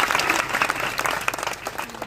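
An audience at a Marathi religious discourse on the Navnath story breaks into brief, dense applause, a steady wash of many hands clapping close by.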